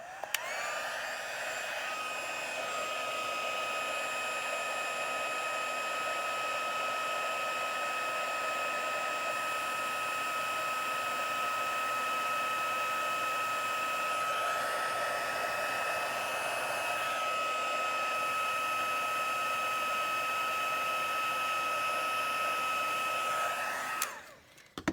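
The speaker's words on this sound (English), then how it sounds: "So I'm going to heat this and emboss this." Heat embossing tool blowing hot air over embossing powder on a handmade card, a steady loud whirring hum running unbroken for over twenty seconds before cutting off at the end.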